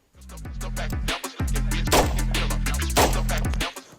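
Pistol shots fired at targets during a shooting drill, a rapid string of loud, sharp close reports with brief gaps, echoing over one another.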